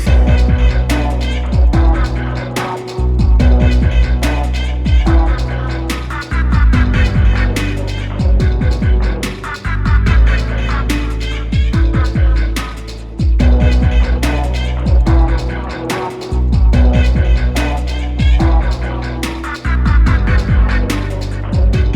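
Chorus section of a track, a loud dense mix with a heavy pulsing low end, punchy repeating drum hits in a steady groove and layered tones over it, playing continuously without any talking.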